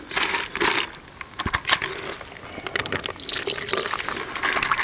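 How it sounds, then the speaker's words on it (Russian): Cold water poured over pig compound feed for soaking fishing bait, a splashing, gurgling pour with scattered crackling of the dry pellets, close and fairly loud, no talking. "Его надо холодной водой замочить."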